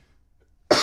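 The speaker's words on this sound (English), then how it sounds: "Apologies for the cough again." A single sharp cough at close range, sudden after near silence and cut off at the end.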